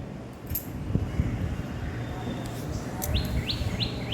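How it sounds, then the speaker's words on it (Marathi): Birds chirp in the background, with a run of short, bright repeated tweets near the end over a soft outdoor hush. "हे बघा पक्ष्यांची खिलबिल किती गोड किती प्रकारचे पक्षी आहेत तिथे"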